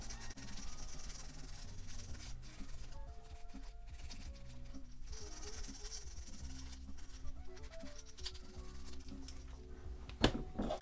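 A Scotch-Brite pad scuffing a flat side coffin bill crankbait lure, a soft continuous rubbing close by under faint background noise, with a brief sharp knock near the end.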